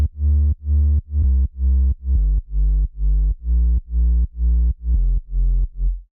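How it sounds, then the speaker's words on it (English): Heavily processed, powerful sub bass from a progressive house remake pulses in a steady rhythmic pattern of short, thick, warm notes, loud and alone, with occasional pitch changes. "And the sub beneath sounds like this."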